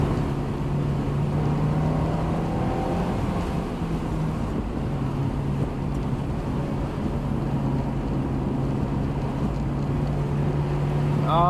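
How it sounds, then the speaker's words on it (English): A Honda S2000 sports car drives along on a Japanese road, with a strong, steady engine drone and heavy road and wind noise inside the cabin, ending with a quick rising rev. "it sounds pretty intense the way that this engine just revs"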